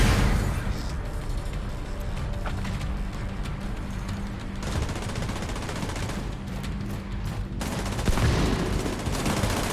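Gunfire fills a raid in the video game The Division 2: dense, continuous bursts of automatic weapons and layered shots, loud and sustained throughout without a break.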